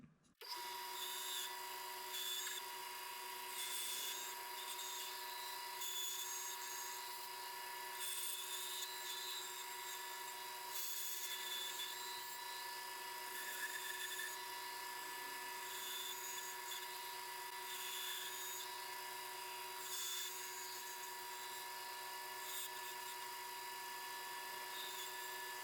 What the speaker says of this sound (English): we're gonna cut a little cheese knife out of this piece